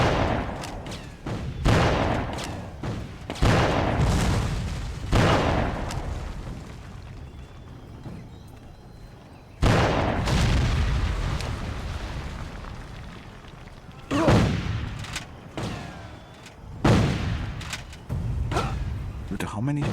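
Repeated booming gunfire volleys in a Civil War video game battle, loud bursts of musket and artillery-like blasts every few seconds with rumbling tails, voices talking over the action between shots.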